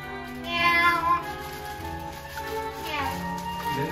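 A cat meows twice, close and clear, the calls rising and falling in pitch over a soft background hum.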